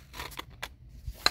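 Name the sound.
scissors cutting paper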